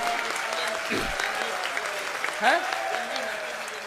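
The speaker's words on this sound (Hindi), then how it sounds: "समर्थन में एक बार जोरदार ताली बजा दो।" Audience at a Hindi-language public speech gives loud, sustained applause lasting throughout, with a speaker's voice briefly heard over the clapping.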